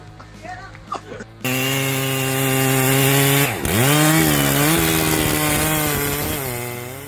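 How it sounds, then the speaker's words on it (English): A chainsaw roars into a steady cut through a sturdy birch-like tree, its pitch dipping sharply as it bogs in the wood, then revving back up. Brief rustling precedes it. "With a chainsaw in hand, the operator takes down a sturdy birch-like tree"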